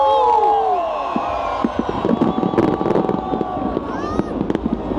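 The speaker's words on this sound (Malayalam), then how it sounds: "ചുറ്റും എല്ലാ ബിൽഡിങ്ങിനും നല്ല രസമായിട്ട് ഫയർ വർക്ക്സ്." New Year fireworks bursting over Melbourne city at night, with continuous crackling and booming explosions amid a cheering, whooping crowd, and people talking nearby.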